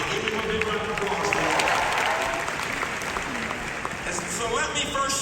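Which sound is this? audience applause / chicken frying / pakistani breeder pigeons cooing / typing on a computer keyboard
audience applause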